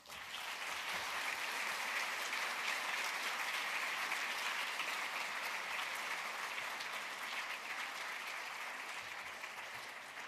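Applause from an audience at an awards event, a sustained, even wash of clapping that holds loud and full for ten seconds, then tapers slightly near the end, with no talk over it.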